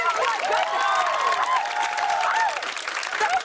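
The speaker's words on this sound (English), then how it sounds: "And round of applause for that." Audience applause at a TV talk show with Bindi Irwin, John Cena and Lilly, steady and full for the whole stretch, with cheering and whoops rising above the clapping.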